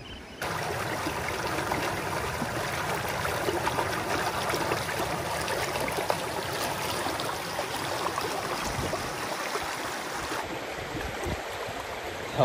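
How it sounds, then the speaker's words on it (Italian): A mountain stream of pure, fresh water flows steadily and close by, a continuous broadband rush and trickle that holds even in level from start to finish with no voices over it. "trovare questo ruscello che viene da quei monti, acqua purissima, freschissima"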